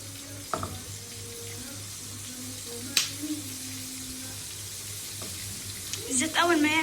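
Fish seasoned with cumin, coriander, salt and garlic sizzles in hot oil, a continuous close frying hiss with a few sharp pops and spatters, and a voice comes in briefly near the end.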